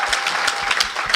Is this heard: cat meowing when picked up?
no